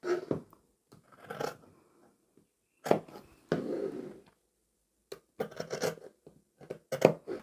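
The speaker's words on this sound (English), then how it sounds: "I'm going to cut both layers out at the same time" Scissors cut through two layers of fabric for a boxy cushion cover, making quiet, close snips and crisp slicing crunches in irregular short bursts separated by silences.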